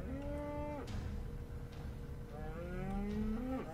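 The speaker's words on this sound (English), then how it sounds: "The cow gave me a fright." A Minecraft cow moos twice in the game, two drawn-out lowing calls separated by a short pause, clear and alone against quiet background.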